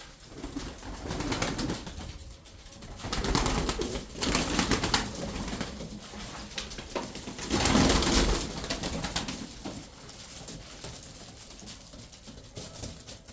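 Tumbler pigeons coo softly in a loft, several birds overlapping in low rolling calls with occasional wing flutters and rustling, steady and close throughout.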